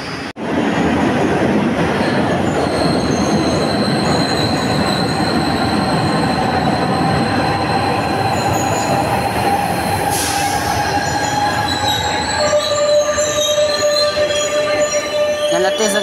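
A Milan metro train rumbles loudly with wheels squealing and rails clattering, high whines rising and shifting as it moves through the station.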